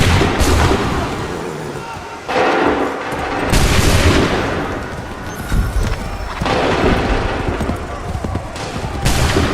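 Musket volleys from massed infantry in Assassin's Creed 3 on PC crack out in several loud, rolling bursts of overlapping shots, separated by short lulls, with battlefield commotion and shouted orders underneath.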